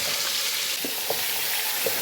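Marinated mutton sizzles and fries loudly in hot oil in a pot for biryani. A dense, steady hiss fills the whole clip close up, with a few soft stirring bumps.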